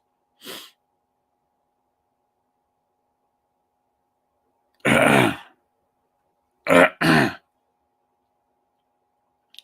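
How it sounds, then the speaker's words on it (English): A few short, rough throat-clearing bursts separated by silence: one brief sound, then a longer rasp, then two quick ones close together. "Clearing my throat there a little bit."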